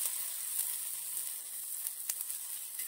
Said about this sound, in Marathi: आणि नंतर थोडंसं साईडला तेल घालायचं आहे